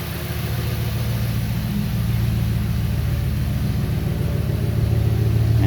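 Audi RS4 with a rear-mounted turbo engine running at a steady, mellow idle, a loud continuous low drone heard up close with no talking.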